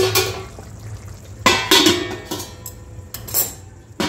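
A metal lid goes onto a pot of cooking vegetables with a cluster of close clanks and scrapes, followed by a couple of lighter clinks as it settles, fairly loud against a quiet kitchen background.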